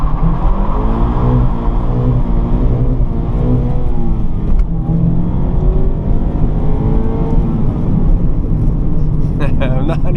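A Mazda Miata MX-5 engine revving hard through a launch and acceleration from inside the cabin, loud and steady with rising engine pitch, while someone talks over it.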